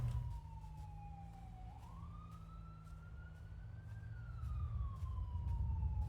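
A police siren wails in a smooth, slow rising and falling tone that grows steadily louder as it approaches over a low rumble of traffic, with no talking.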